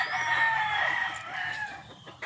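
A fighting rooster on a farm gives one long, loud crow close by, trailing off into a short cluck at the end.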